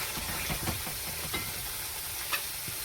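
Spice paste frying in hot oil for a fish curry, with a steady close sizzle and occasional stirring scrapes and taps of a spoon against the pan.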